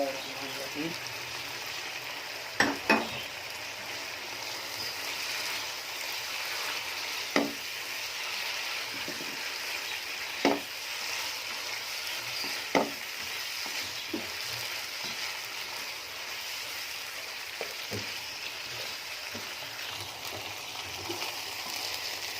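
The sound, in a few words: frying kachnar with chicken in a pot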